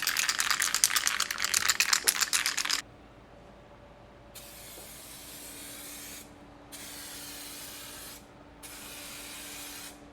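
A 2K spray paint can is shaken hard, giving a fast, loud rattle for about three seconds, followed by quieter hissing bursts separated by short pauses.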